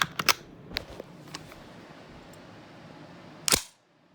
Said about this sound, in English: let me lock back the bolt.